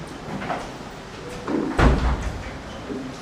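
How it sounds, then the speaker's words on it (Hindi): A door is shut in a classroom, one muffled thud near the middle over faint room noise. "दरवाजा बंद कर।"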